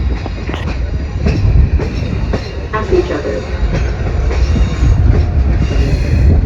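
A passenger train rolls through a big curve, with loud, continuous rumbling and rhythmic clickety-clack of wheels over rail joints close by, while people talk briefly over the noise.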